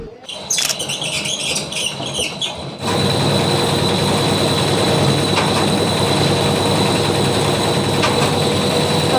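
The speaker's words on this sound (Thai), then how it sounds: "ตอนนี้เราก็ได้สตาร์ทเครื่องยนต์เสร็จแล้วเรียบร้อยนะคะ" Clanking mechanical noise gives way to the loud, steady roar of a straw baler's engine that runs on continuously, with occasional metallic clicks over the hum.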